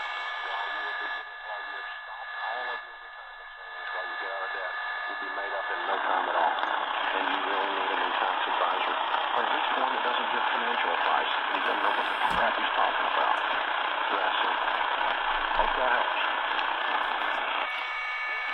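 Shortwave radio static hisses steadily with faint tones and whines layered in on an Eton Elite Traveler receiving daytime medium wave, growing louder and fuller partway through.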